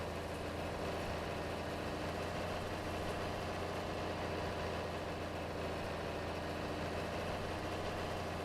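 A diesel tractor idles steadily in Farming Simulator 22, a constant low mechanical drone with an even rumble that holds unchanged from start to finish, close and moderately quiet with no voices.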